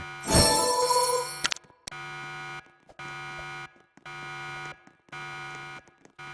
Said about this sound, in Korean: 자 알람이 울리고 있다는데